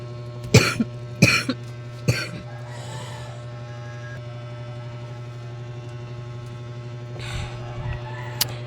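Three sharp coughs in quick succession, then a pause over a steady electrical hum, followed by a couple of softer coughs and throat sounds.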